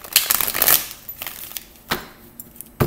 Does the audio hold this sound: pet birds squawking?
no